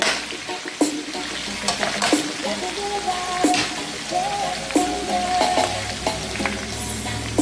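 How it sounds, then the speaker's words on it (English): Fresh garlic hits a hot frying pan for a Jamaican-style brown stew pork dish, giving a continuous crackling sizzle with scattered pops and stirring scrapes, close and fairly loud, with no talking. "So I'm going to start adding my garlic in."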